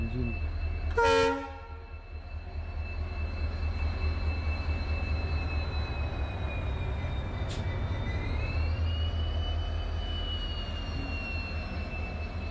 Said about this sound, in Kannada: ಒಂದು ಟ್ರೈನ್ ಬರ್ತದೆ.